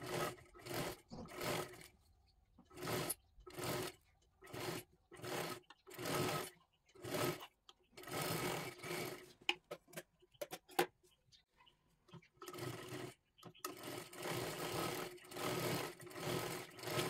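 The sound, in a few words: sewing machine double-stitching lace onto a blouse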